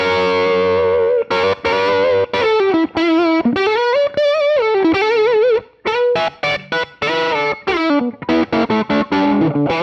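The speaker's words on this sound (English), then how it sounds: "Double stops are awesome on this guitar." Electric guitar with distortion and effects playing double stops on a 1959 Les Paul Burst or vintage Telecaster, loud sustained two-note phrases bending and sliding, with brief gaps between licks.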